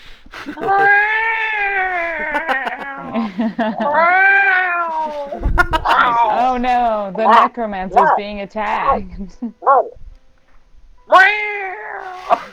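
A cat meows and caterwauls repeatedly in long, wavering, loud cries near at hand, with a brief bump partway through and people talking around the calls.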